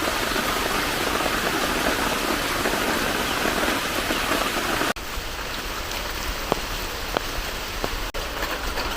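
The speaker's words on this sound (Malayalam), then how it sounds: "പെട്ടെന്ന് മാറി മഴ" Steady rain hisses evenly throughout, a dense wash of falling water with a slight shift in tone partway through and a few faint drips.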